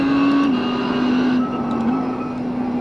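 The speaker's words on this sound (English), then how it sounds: "That's an interesting brake noise" A GT3 race car in the iRacing sim gives off a steady engine drone with a sustained tonal hum. The pitch shifts slightly as it runs, and a few faint ticks sit on top, with no talking.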